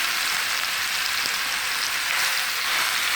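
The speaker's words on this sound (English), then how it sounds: "I'm going to go ahead and add the ground beef to the skillet and brown it" Ground beef browning in a hot skillet over medium-high heat, for stuffed bell peppers: a loud, close, continuous sizzle and crackle of frying meat, with no pauses.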